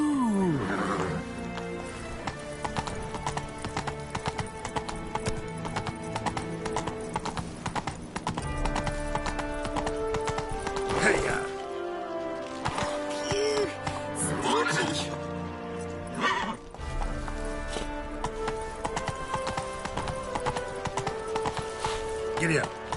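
Horse hooves clip-clop at a gallop in The Witcher 3, a fast steady drumming running throughout alongside game music and an occasional whinny, with a voice speaking over it at points.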